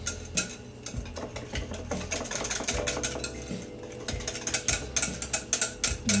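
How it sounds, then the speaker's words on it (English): Vanilla and cocoa powder being whisked together in a bowl, with rapid, irregular metallic clicking and scraping of the whisk against the dish, moderately close and continuous, with no talking. "Whisk that all together."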